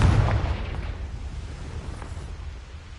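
A Confringo spell blast from Hogwarts Legacy erupts with a heavy, loud boom at the start, then a rumbling low decay that fades over a few seconds.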